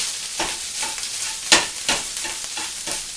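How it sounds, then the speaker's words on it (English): Rice being stirred and broken up in a hot oiled frying pan over medium heat, steady sizzling with scraping strokes of the utensil at close range and no talking. "You break up all them rice balls."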